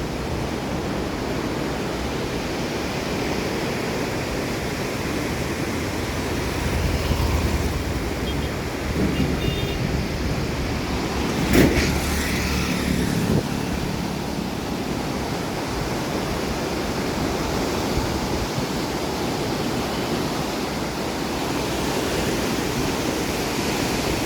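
Rushing flood water of the Mahanadi river released from the Hirakud dam, a loud continuous broadband roar like heavy surf, steady throughout with a brief louder thump midway, no clear speech.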